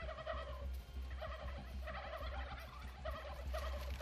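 Several in-game turkeys in How to Survive 2 gobble repeatedly and loudly over a constant low engine-like hum, with overlapping calls in steady waves.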